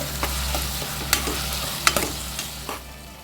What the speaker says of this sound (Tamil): அதோட கொஞ்சம் தக்காளி வதங்குறது உப்பு சேர்த்துக்கலாம்.